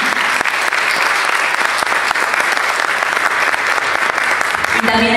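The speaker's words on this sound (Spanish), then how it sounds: "Le damos la bienvenida y un aplauso para Verónica." Loud, sustained applause from an audience at an academic talk welcoming a speaker, dense, even clapping that continues without pause from start to finish.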